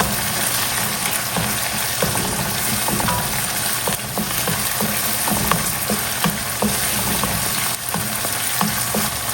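Onions sizzle and fry in a hot pan for stuffed karela, a loud, continuous crackling hiss with occasional sharp pops and the scrape of stirring, with no voices.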